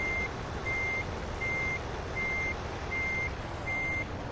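A truck reversing in Euro Truck Simulator 2, its backup alarm giving six even, evenly spaced beeps over a steady low engine rumble, with no talk.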